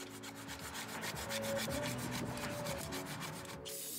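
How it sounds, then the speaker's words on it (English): Plastic razor blade scraping an old gasket off the engine block of a 1990 Cadillac DeVille during a water pump replacement: a steady run of close, rhythmic rubbing strokes, with no talk. "Use a plastic razor blade and scrape off the old gasket that's on the block."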